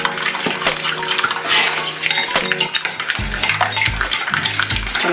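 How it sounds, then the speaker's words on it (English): Coleslaw with black pepper being mixed in a bowl, with repeated clinking of a utensil against the dish and wet stirring, close and fairly loud throughout. "And I mix it nicely."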